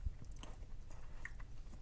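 Cadbury Dairy Milk Crunchie biscuit being eaten, with quiet close-up chewing and small crunches over soft background noise.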